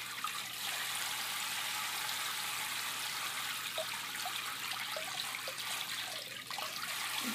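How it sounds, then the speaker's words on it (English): Water sloshes and trickles in a baby's bath, a constant close wash of splashing with small drips and ripples and no talking. "You can't grab it because it's water."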